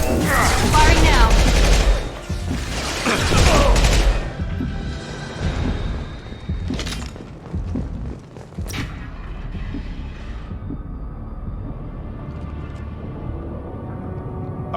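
Mass Effect 2 Legendary Edition combat on Omega: dense automatic gunfire and booming blasts pound for the first few seconds, then thin out to scattered sharp shots over a rumbling ambient bed.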